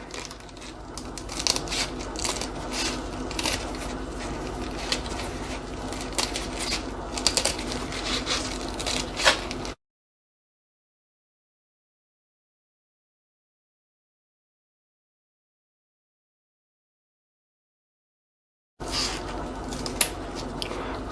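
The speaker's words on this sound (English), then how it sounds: "I'll need to trim off the excess." Scissors trim excess blue velvet fabric from a padded headband, giving a run of quick, close snipping and crunching cuts, then a stretch of dead silence before more cutting resumes.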